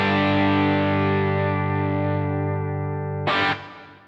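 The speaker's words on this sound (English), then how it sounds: "Now even with the drive control wound all the way back, we've still got quite a lot of gain." A Beetronics Wannabee dual-drive fuzz pedal with its drive control turned fully down still gives a thick, gainy distorted tone, one sustained chord ringing for about three seconds before a short burst of noisy, scratchy fuzz and a fast cutoff.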